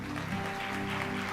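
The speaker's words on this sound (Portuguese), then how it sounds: "Você pode dar um aplauso ao Senhor?" A church congregation applauding, a short steady burst of dense clapping filling the room without pause.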